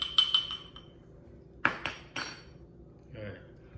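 Metal utensil tapping and scraping against a dish while crushing and mixing alkaline toothpaste ingredients, a few sharp clinks and knocks spaced apart with quiet gaps between.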